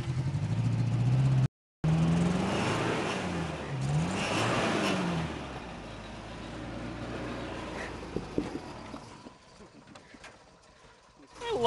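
A 2010 Toyota 4Runner truck engine revs up and down through a series of rising and falling pulls, loud and close, settling toward a quieter idle, with a voice talking over it.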